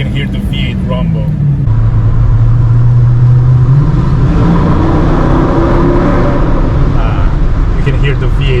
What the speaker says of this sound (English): You can hear the V8 rumble.